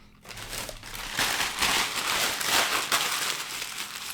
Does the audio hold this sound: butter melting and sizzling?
no